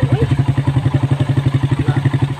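A motorcycle engine idles close by with a steady, rapid thumping putter, even and loud throughout, no voices over it.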